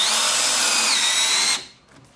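A Hart 20V 1/2-inch cordless drill drives a screw in one steady, loud, high-pitched whirring burst that stops abruptly, leaving near-silence.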